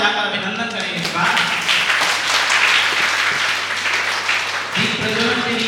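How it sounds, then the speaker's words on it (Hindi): Audience applause welcoming guests at a Hindi theater event, dense continuous clapping filling the hall, loud and close, with voices mixed in. "हम सब तालियां बजाकर अभिनंदन करें।"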